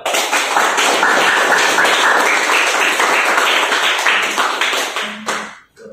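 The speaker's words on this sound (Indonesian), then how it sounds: "Oke, tepuk tangan dong." A classroom of students applauding at the end of a lesson, dense steady clapping from many hands that holds for about five seconds, then tapers off sharply.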